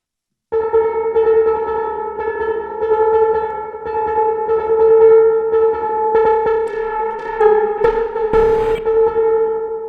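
A looping melodic sample with sustained tones, washed in Valhalla reverb so the notes blur and trail into each other, steady and fairly loud.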